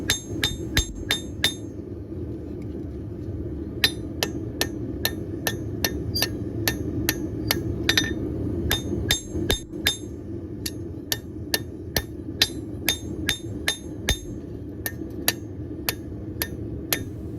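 Hammer forging a small hunting knife by hand, sharp ringing metal strikes in quick regular volleys, a brief cluster, a pause, then long runs of steady blows over a low rumbling background.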